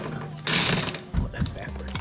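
Ratchet wrench turning a thread tap on a 2016 Nissan Rogue during a Draw-Tite trailer hitch install, with a burst of rapid clicking followed by scattered metallic clicks close up.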